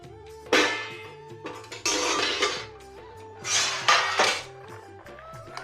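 A metal pot lid rattles and clanks as it is lifted off a pot of boiling potatoes in a home kitchen. There are three or four short bursts of clatter over steady background music.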